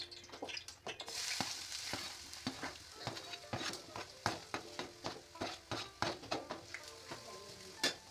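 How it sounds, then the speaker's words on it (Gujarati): Turmeric drops into hot ghee and roasts in a pan, giving a soft sizzle broken by repeated sharp scrapes and taps of a spoon against the metal at a close, steady rhythm. "ઘી ગરમ થાય ને ઘી પછી અંદર હળદર નાખી દેવાની."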